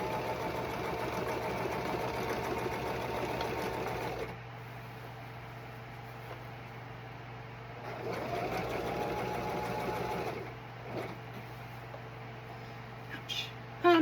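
A sewing machine runs in bursts while stitching black striped pants until the bobbin runs out, giving close rapid whirring clatter that stops and restarts, with a voice talking between runs.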